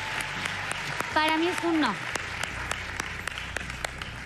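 Audience applause at a Got Talent Argentina 2023 audition, steady clapping under a judge speaking in Spanish, with a brief tonal sound effect partway through.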